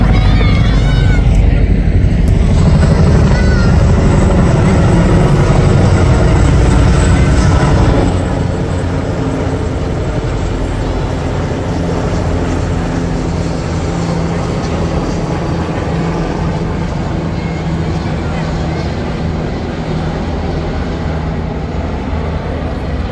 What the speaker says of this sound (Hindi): अभी ऊपर मुझे कुछ जहाज़ों के उड़ने की आवाज़ आ रही है।